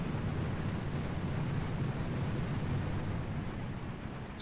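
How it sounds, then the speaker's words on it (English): An artillery barrage in the Boom Beach mobile strategy game sets off a steady, dull rumble of explosions that holds for several seconds at moderate loudness, alone without speech. "we can send in a barrage over here to the right."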